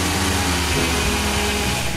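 A BMW 535ia engine idles steadily while the cooling system is bled, a close, even low hum with a constant drone and no talking.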